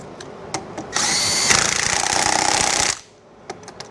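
Impact wrench or power drill buzzes loudly for about two seconds while tightening lug nuts on a 1975 van, steady and close, with quieter clanks before and after.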